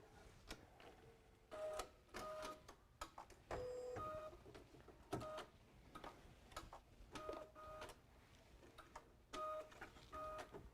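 An embroidery machine runs satin stitching around a book spine, giving bursts of rapid mechanical ticking and clattering separated by quieter pauses, faint and close.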